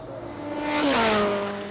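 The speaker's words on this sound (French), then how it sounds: "c'est une moto qui vient de passer à grande vitesse." A motorcycle passes at high speed on a motorway, its engine whine rising as it approaches, peaking and then dropping in pitch as it speeds away, moderately loud with no talk.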